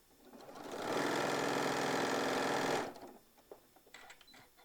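A sewing machine stitching fabric runs in one steady, fast whirring burst for about two seconds, close and clear, then stops, leaving faint handling clicks.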